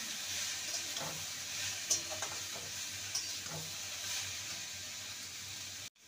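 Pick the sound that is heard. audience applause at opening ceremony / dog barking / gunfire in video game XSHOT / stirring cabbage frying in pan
stirring cabbage frying in pan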